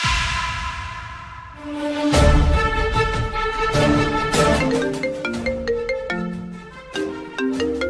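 A phone ringtone for an incoming call late at night plays loud and alone: a brief tone, then a bright repeating melody of chiming notes that continues throughout.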